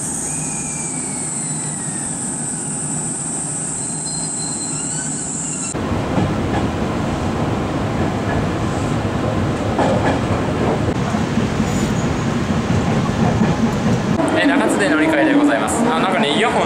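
A limited express train rumbles into a station in Japan with rattling wheels and rising clatter, squealing faintly near the end; a voice talks over the noise.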